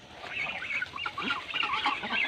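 Noisy squabbling birds close by, a jumble of overlapping hissy calls and honks from several muscovy ducks fighting over fallen mangoes, continuous and agitated throughout.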